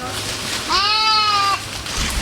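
A garol sheep on a farm in Bangladesh lets out a single loud, nearby bleat lasting under a second, heard against low background noise.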